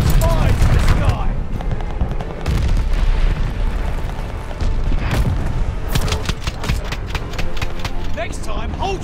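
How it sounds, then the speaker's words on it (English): Bombing run explosions in the Call of Duty: Vanguard multiplayer game, loud rumbling booms and bursts of gunfire rolling continuously for the full stretch, with dense overlapping blasts and announcer-style voices in the mix. "Friendly bombing run on the way."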